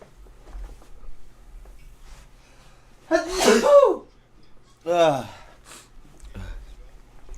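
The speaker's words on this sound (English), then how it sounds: "Oh, I'm about to sneeze." A single sharp sneeze bursts out fairly close, followed a second later by a shorter sniff or exhale, against a quiet room background.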